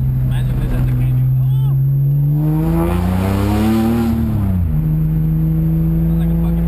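BMW fitted with a Bimmworld race exhaust accelerating, a loud, close engine drone that rises steadily in pitch, then drops sharply as it shifts and settles into a lower steady tone, with no talking over it.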